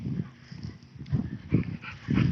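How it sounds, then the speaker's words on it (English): A small puppy gives several short yips and whimpers in quick bursts, close by and fairly loud, with no talking over them. "we got a little dog puppy that's a lot of control"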